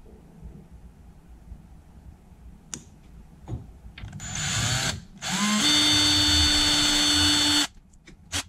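A belt sander starts up after a few clicks and knocks, then whirs loudly as it shapes wood from a 2x4 for a few seconds before stopping.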